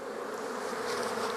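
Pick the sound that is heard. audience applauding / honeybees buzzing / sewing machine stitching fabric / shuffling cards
honeybees buzzing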